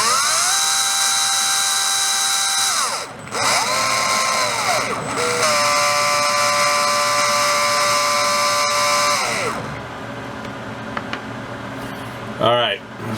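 A Surpass Rocket V6 17.5 brushless RC motor runs on a test bench with a loud, high electric whine that holds steady, briefly drops and spins back up, then winds down and falls quiet near the end.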